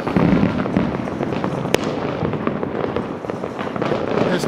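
Dense, rapid crackling and popping of New Year's fireworks going off continuously nearby in Lamezia Terme, Italy, with one sharp louder bang partway through and a crowd murmuring beneath.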